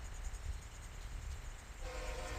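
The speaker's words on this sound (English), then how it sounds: "Train coming in from the east." Train approaching from the east near North Baltimore, a steady low rumble with a tonal horn or whistle entering toward the end, alone with no talk.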